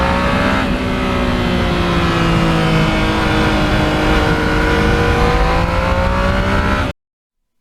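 A 2020 Yamaha MT-09 motorcycle being ridden, its engine droning steadily and loud throughout with slowly shifting pitch as the revs rise and fall, then cutting off abruptly near the end.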